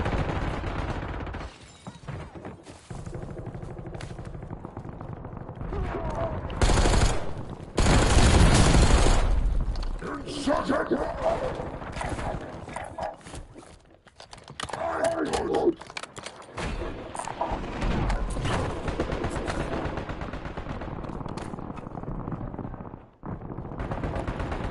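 Gunfire in the video game Warzone: bursts of rapid automatic fire and single shots come and go over a steady background, with one loud dense volley in the middle, and some speech mixed in.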